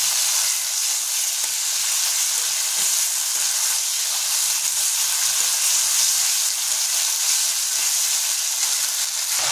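Ginger garlic paste frying with onions in a pan for patal chingri, a loud, continuous sizzle with occasional stirring scrapes, steady throughout without speech.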